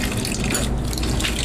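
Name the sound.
water overflowing from electric water heater's hot water pipe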